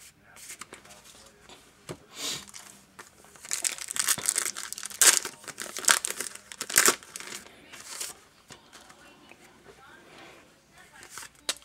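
Foil wrapper of a 1990 Fleer football wax pack being handled and torn open, with bursts of sharp crinkling and crackling that build in the middle, close up, with someone speaking quietly at times.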